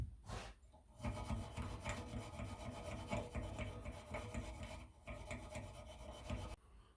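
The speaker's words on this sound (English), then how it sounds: "This is all rusted down inside too, so we'll have to clean that out with a little wire brush." A wire brush scrubbing a rusted brake part on a van, a continuous harsh rasping and scraping close up with brief pauses, with no talking.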